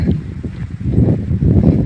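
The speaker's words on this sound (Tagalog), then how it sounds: "Lakas ng hangin." Strong wind buffets the microphone in continuous low rumbling gusts on a high hanging bridge in the Sadanga mountains, Philippines, with a faint watery wash in the background.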